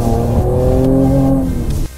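A Mercedes-AMG C43 in Sport Plus mode with the AMG Performance Exhaust drives through an underground car park, its engine a loud, steady droning rumble that cuts off abruptly near the end.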